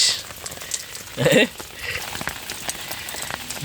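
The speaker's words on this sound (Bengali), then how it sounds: "বৃষ্টি আরও জোরে আইছে দেখেন মানে একটু আগে একটু আস্তে আস্তে হচ্ছিল" Heavy rain pours down at a shrimp and crab farm pond as a steady, close hiss with one brief louder gush partway through.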